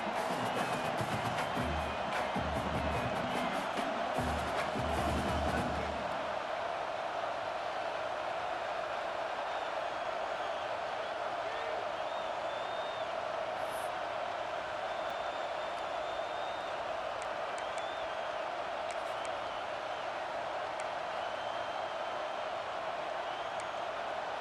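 Football stadium crowd roars and cheers steadily as a game plays out, a broad continuous wash of noise with a louder rumble in the first few seconds before settling into a sustained din.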